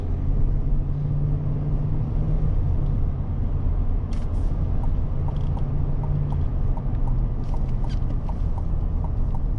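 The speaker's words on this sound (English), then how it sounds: "We're gonna hop on the highway here and see how she handles with speed." Steady road and engine noise inside a 2025 GMC Yukon XL AT4 SUV driving on the highway, a constant loud broadband rumble with faint ticks and rattles throughout and no talking.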